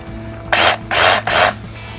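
A DeWALT DCH 253 cordless SDS hammer drill runs in three short bursts, each a loud, harsh buzzing whir lasting about a quarter second, separated by brief pauses.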